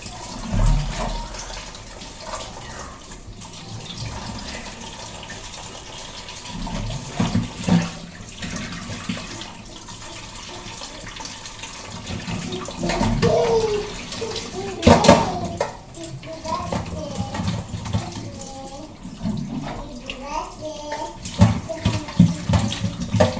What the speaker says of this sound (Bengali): মাছগুলো ধুয়ে নিই